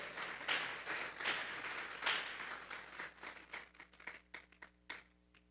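A church congregation bursts into applause during a sermon, loud clapping at first that thins into scattered, fading claps over a few seconds.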